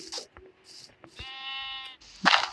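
Bleating sheep in the Mancraft video game, a clear mid-length bleat between soft game clicks and footsteps, followed by a brief louder burst.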